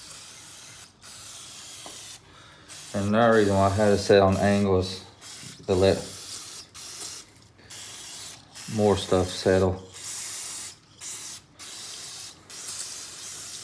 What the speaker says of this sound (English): Any debris that you see in there, spray it out.